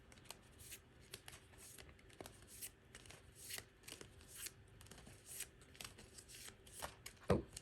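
A deck of tarot cards is shuffled by hand in a steady stream of soft riffles, slaps and crisp card flutters, close and continuous, ending with a louder knock.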